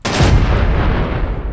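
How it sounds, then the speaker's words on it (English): A warhead blast in the space-building game Space Engineers bursts in at once as a loud, broadband roar. It decays slowly over a second and a half with no voices. "So let's actually have a look at this explosion."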